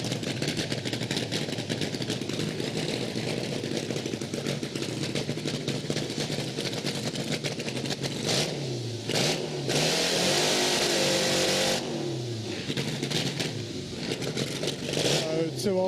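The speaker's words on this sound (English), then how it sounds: "Ray Law getting ready to do the burnout." A double-engine Triumph drag motorcycle does a burnout at a drag racing event, its engines revving hard and droning loudly and close, rising in pitch with a harsh roaring surge near the end.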